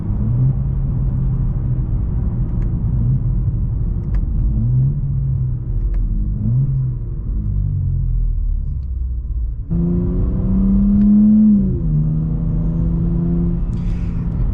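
A 2025 BMW M4 Competition with downpipes, valve controller and Arms midpipe, engine not fully warm, revs and rumbles steadily, pitch climbing and dropping as it shifts through several gears, with a louder surge near the end.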